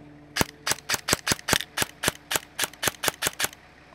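An airsoft gun is test-fired just after a repair, giving about thirteen sharp, evenly spaced clicking shots in a quick string, close and clear with no talk.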